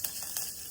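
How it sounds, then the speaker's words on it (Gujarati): Curry leaves and tomato dropped into hot ghee give a soft, brief sizzle with a couple of light crackling pops, faint and close, with no voices. "એમાં નાખીશું લીમડો અને ટમાટર"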